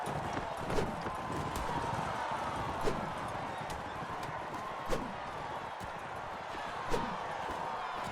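Steady clip-clop of horse hooves running in the video game Mount and Blade Warband during a tournament, with periodic sharper impact thuds and a voice talking over the rhythmic galloping.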